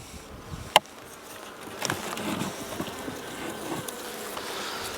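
Honey bees buzz steadily around an open hive during an inspection, a low continuous drone with a sharp click near the start and light knocks of handling.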